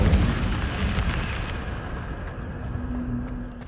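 The Incendio fire spell from Hogwarts Legacy erupts with a loud, roaring whoosh and rumbling burst up front that gradually fades into a lower, sustained hum.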